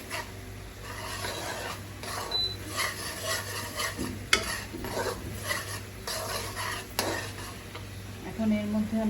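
Mutton rezala being sautéed in a pan, a spoon scraping and stirring against the metal in repeated strokes over a soft sizzle, with occasional sharp clinks and no talking.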